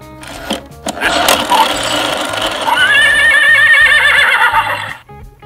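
A recorded horse whinny from a Fisher-Price See 'n Say The Farmer Says toy, loud and shrill, preceded by a few clicks and followed by a sudden stop; sounds like a toy's playback.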